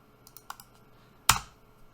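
A few light keystrokes on a computer keyboard during Ubuntu terminal work, a scattered soft pattering followed by one sharp, louder key strike, close and otherwise quiet.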